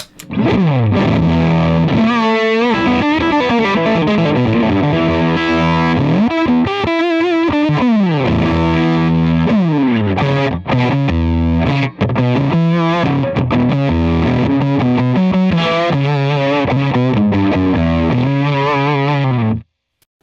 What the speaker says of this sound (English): it captures that signal chain of a fuzz going into a cranked amp